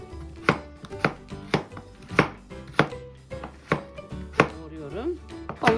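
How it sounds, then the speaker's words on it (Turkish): Peeled potatoes chopped into large cubes with a knife on a cutting board, a steady series of about ten sharp, close knocks at an even rhythm. "Soyduğum patatesimi iri iri küp küp parçalara bölüyorum."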